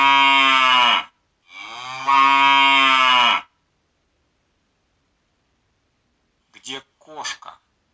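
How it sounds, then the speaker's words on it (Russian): A cow moos twice in long, loud, drawn-out calls separated by a short pause, followed after a silence by a brief spoken word. "Корова."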